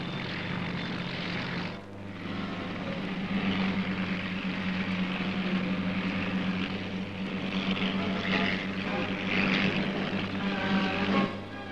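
A military helicopter offloading cargo from a ship to the shore during an army exercise gives a loud, steady engine and rotor drone. It dips briefly early on, then holds a constant roar throughout.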